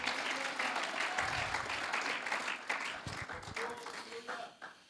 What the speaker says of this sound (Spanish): Den un aplauso